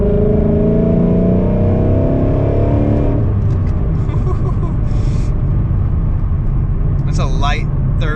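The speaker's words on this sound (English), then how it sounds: "It's a light third gear acceleration there" A Ford Mustang engine pulls through a light third-gear acceleration, a loud continuous rumble with a rising tone that eases off after a few seconds, followed by steady road noise.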